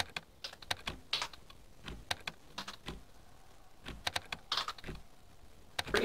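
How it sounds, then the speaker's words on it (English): A code is tapped out on a computer keyboard in the horror video game Cry of Fear, quick irregular keystrokes in short bursts with brief pauses between them, close and fairly quiet, with nothing else heard. "next, I'm gonna type the"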